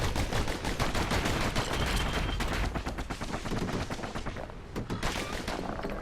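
Rapid twin slinger pistols fire in Bastion, a dense, loud stream of sharp shots rattling on with barely a pause for about six seconds, no talking.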